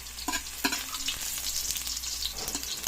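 Garlic sautéing in a hot pan for a Filipino ginataang tahong dish, a steady close sizzle with a few sharper stirring scrapes and spatters, no voices.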